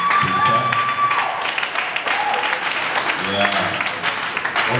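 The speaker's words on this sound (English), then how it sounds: "Please, guys, a rousing round of applause to each YAMA." A convention audience breaks into loud, dense applause that fills the room steadily from start to finish, with some cheering and voices mixed in.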